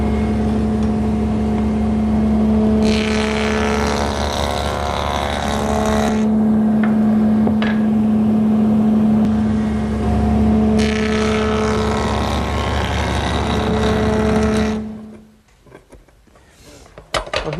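A wood moulding machine fitted with a bead-profile knife hums steadily while two louder bursts of cutting mark pieces being fed through. The motor then winds down to near silence.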